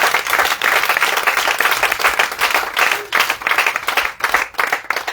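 A church congregation at a morning prayer and fasting service applauds the Lord with sustained loud clapping that fills the room, dense and continuous with slight surges.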